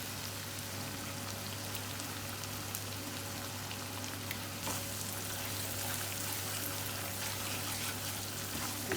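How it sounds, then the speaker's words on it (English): Steady, dense sizzling of chilli garlic chutney frying in a pan, a continuous crackle with no voices. "Keep frying."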